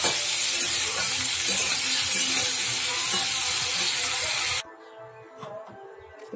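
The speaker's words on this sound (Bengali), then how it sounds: "মাছের মাথাটা ভেজে নিচ্ছি, তেল দিয়ে দিয়েছি" A fish head fries in hot oil in a pan, giving a loud, steady sizzling hiss for most of the moment before it abruptly drops to a faint crackle near the end.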